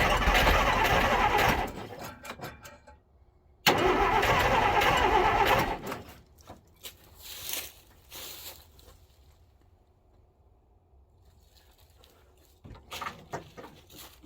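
A 1946 Plymouth engine that had sat for six years cranks loudly in two long bursts, then pops off into brief sputtering firing before dying, followed by quieter clicks and scattered noises near the end.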